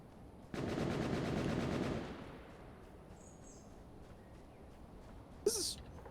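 Video game machine-gun burst in an aircraft combat game, a rapid rattling volley of about a second and a half at moderate distance, then quiet ambience and a brief sharp shot near the end.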